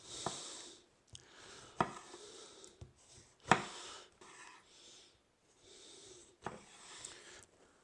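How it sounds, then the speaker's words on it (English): A knife slices a small lemon very thin on a cutting board for homemade lox, a series of sharp, irregular cutting taps close by, quiet between strikes, with no talking. "So we'll just slice that really thin as well."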